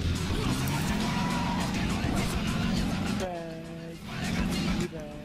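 Car engine and tire skidding in the video game Crackdown, a steady droning motor with squealing tires running under continuous talk, with a brief dip near the end before the engine resumes.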